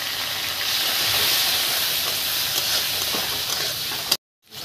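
Chopped onions fry in hot oil in a pan, a steady broad sizzling hiss held close for about four seconds before cutting off abruptly, with no talking.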